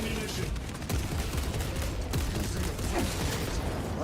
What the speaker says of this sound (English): Heavy bolt rifle.